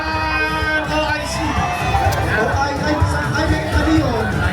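A dense, loud crowd at a barangay community event in Manggahan, Pasig, sustains a continuous roar of chatter and cheering throughout.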